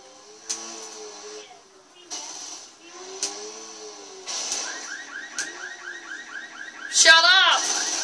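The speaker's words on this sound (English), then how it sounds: "I kind of landed on a car and the alarm's going off." In Saints Row 2 gameplay, a car alarm wails after a car is landed on, its electronic warble repeating in steady cycles with a sharp high chirp near the end.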